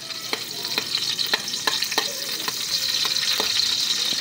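Garlic frying in hot cooking oil for a pork maskara Bicol express, a steady bright sizzle broken by regular spatula taps against the pan, close and fairly loud with no talking.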